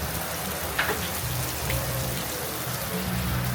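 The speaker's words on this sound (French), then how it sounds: "Mais là, il pleut." Steady rain falls outdoors in the Philippines, a dense even hiss of drops on surfaces with a faint low hum underneath and no talking.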